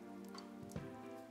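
Steady rain falling in the video game Persona 4 Golden, a constant soft hiss over a low sustained music drone, with no talking.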